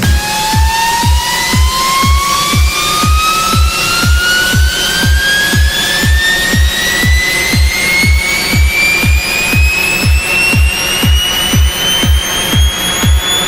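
Synthesized tuned riser with its pitch lowered to -10, a steady pulsing rhythmic beat under a slowly rising whistling tone that climbs gradually throughout, loud and continuous.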